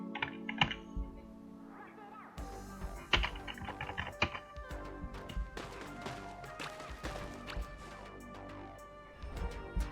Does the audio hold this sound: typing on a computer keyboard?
yes